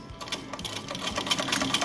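A sewing machine stitches piping along the very edge of a Peter Pan collar, running in a steady rapid needle rhythm, close and continuous, with no one speaking over it.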